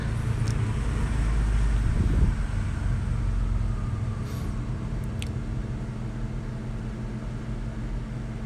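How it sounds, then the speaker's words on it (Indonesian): Honda Scoopy scooter fitted with double carbon-kevlar clutch linings, its engine running at a steady low idle hum, close and continuous, with a brief rougher burst early on. "kita cek dulu suara mesinnya"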